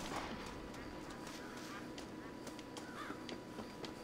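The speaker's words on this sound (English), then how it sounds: "He's over here hunting some ducks" Ducks quacking in the video game Red Dead Redemption during a night-time duck hunt, several faint calls scattered low in a steady ambient background with someone talking over them.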